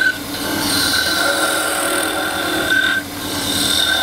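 A skew chisel cuts a wooden piece spinning on a lathe, producing a steady close shearing hiss over a faint tonal whine, with a brief dip as the cut eases.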